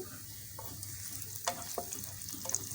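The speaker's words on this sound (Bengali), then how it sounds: "পেঁয়াজটাকে একটু ব্রাউন কালার করে ভেজে নিব" Half a cup of chopped onion with green chillies fries in a pan, a quiet steady sizzle punctuated by a few soft stirring taps, with no talking.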